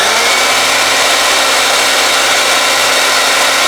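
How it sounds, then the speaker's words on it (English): A blow dryer blows on the edge of a wig as a loud, steady, close airy roar with no breaks and no talking. "use the blow dryer on cold and hot"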